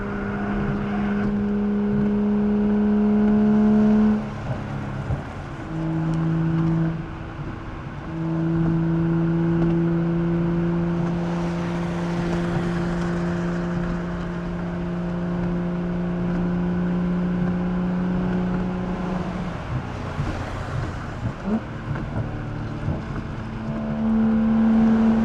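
Car exhaust droning and revving, a loud steady engine hum that rises and falls in pitch over several long throttle sweeps, with brief dips between.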